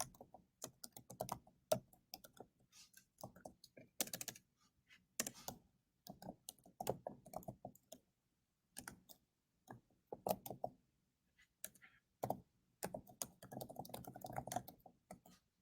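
Typing on a computer keyboard during an online faculty session, with bursts of quick, uneven key clicks broken by short pauses and scattered louder taps, fairly close and alone with no talking.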